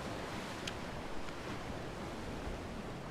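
Ocean surf at Maitland Bay on the Central Coast, a steady broad wash of waves with wind rushing across the microphone, continuous and even throughout with no voices.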